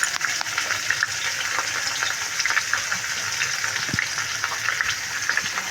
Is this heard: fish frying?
yes